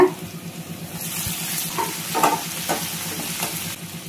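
Chopped tomato and ginger sautéing in a pan, a soft sizzle with a few scraping stir strokes near the middle, close and moderately loud, nobody speaking.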